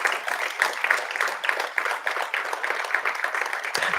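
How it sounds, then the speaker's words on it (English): Graduates applauding themselves at a film and TV academy convocation ceremony, a crowd of hands clapping in a lively, uneven patter that carries through without pause. "So please clap for yourself again."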